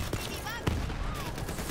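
Gunfire aimed at a tank enemy in the shooter game Borderlands 3, a rapid fusillade of sharp shots with crackling bursts under a mixed game soundscape, with a voice in the background.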